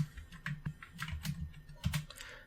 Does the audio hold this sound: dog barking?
no